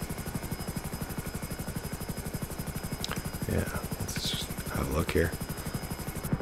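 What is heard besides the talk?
attack helicopter flying in a video game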